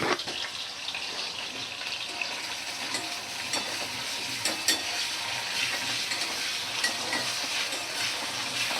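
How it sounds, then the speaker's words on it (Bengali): Chopped carrots and onions fry in hot oil with a steady hiss and crackle, punctuated by occasional stirring scrapes in the pan, close and fairly quiet, with no talking. "তো একটু আমি গাজর আর পেঁয়াজটা ভাজা করে নিচ্ছি"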